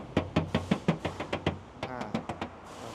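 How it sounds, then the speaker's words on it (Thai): Light, quick knocking on the right rear body panel of a 2019 Toyota Camry 2.5 Hybrid Premium, about a dozen close, evenly spaced taps in a steady rhythm, with no talking. "ก็ฟังเสียง เนี่ยเห็นไหมไม่ใช่เคาะไปแรงตุบตุบตุบหนาหนาไม่ได้นะ ต้องบางๆแบบนี้"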